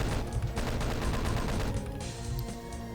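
Chaingunners fire in the video game Doom 2, a dense, continuous burst of rapid gunfire that stays loud for the whole stretch.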